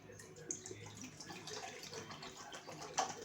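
Water measured into a bowl in a home kitchen, a soft running pour with small splashes and drips rising and falling, ending in a brighter splash near the end.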